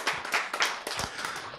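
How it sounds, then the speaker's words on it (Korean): A group claps in a brief burst of quick, crisp hand claps during a Korean classroom lesson, the claps fairly close and overlapping in an irregular rhythm. "박수."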